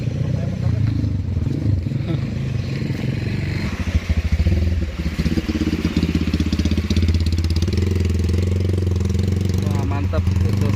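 Motorcycle engine revving and chugging as it climbs a forest mountain trail, loud and continuous with rattling clatter and a voice talking over it.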